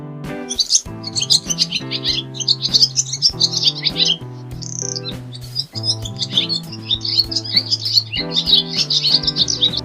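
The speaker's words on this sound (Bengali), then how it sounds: "ঘুঘু পাখি ডাকছে গাছে" Bright, busy dove chirps and tweets sound continuously over a steady musical accompaniment in a Bengali children's alphabet song, lively and close.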